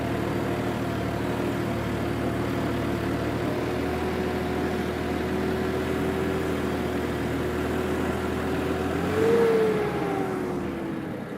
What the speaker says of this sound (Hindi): ट्रैक्टर का जोर थोड़ा सा ज़्यादा लग रहा है